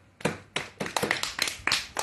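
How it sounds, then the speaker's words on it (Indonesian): Hand claps at a religious lecture: about eight sharp, separate claps in an uneven rhythm, fairly close, with no talking. "Tepuk tangan."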